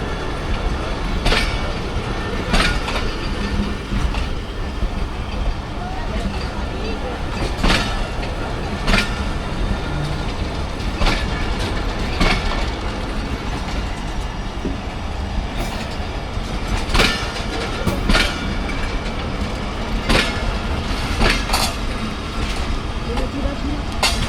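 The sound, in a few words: safari train passing Taxila Cantt junction railway station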